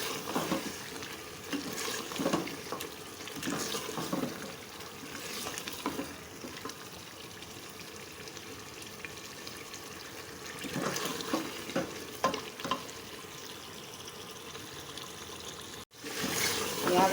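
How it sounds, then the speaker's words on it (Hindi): Mutton masala frying in a pan, a steady sizzle with bursts of stirring and scraping close by, rising and falling in waves, with no talk over it. "मसाला हमारा बहुत अच्छी तरह से भुन गया है।"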